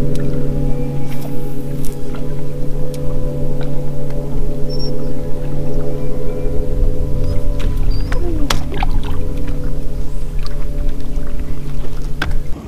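A bass fishing boat motors along, its engine giving a loud, steady hum and drone throughout, with a few faint knocks and splashes over the constant engine noise.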